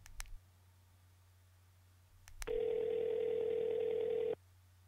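Phone call tone in the Sally Face video game, a single steady electronic beep lasting about two seconds after a couple of faint clicks, alone over low background hum.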